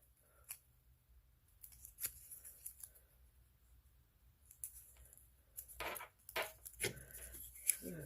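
Scissors snip through a Color Street nail polish strip for a French manicure, giving a few separate close crisp cuts spread across quiet stretches, with light handling rustle in between and no talking.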